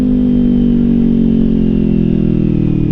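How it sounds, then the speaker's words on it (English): Kawasaki Z400 motorcycle engine running steadily while riding the Suches Loop in Georgia, a loud, continuous mid-pitched drone with a slight pitch drift, heard close and alone. "Got a motorcycle,"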